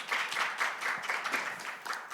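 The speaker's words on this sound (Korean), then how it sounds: "뜨거운 박수로 환영해 주시기 바랍니다." An audience at a Korean education forum on inclusive AI applauds to welcome a university professor to the stage, a sustained wash of many clapping hands at moderate distance, no voices over it.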